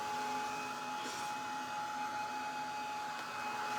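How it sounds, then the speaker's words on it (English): A hair dryer blows steadily on sealer coating a painted craft piece, a continuous airy whoosh with a faint whine that holds even and close for the whole stretch, no one talking. "just blow drying so that we don't get any fingerprints in it"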